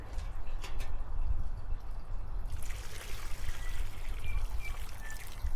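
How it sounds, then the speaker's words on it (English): Leftover liquid from a grain mash for homemade bourbon poured into a container, a steady trickling stream that thins and splashes lightly, close and fairly quiet. "I think I could just pick this up and pour it in."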